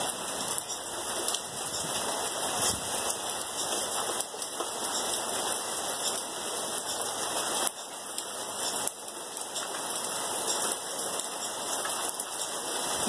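Heavy rain pouring steadily outdoors in Brazil, a dense constant hiss that stays loud and even throughout, with no voices.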